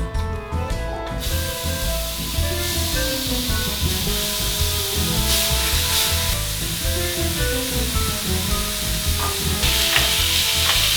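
Ground beef sizzling in a heated pan with no added oil for a beef lasagna, a loud steady frying hiss with occasional scraping stirs throughout.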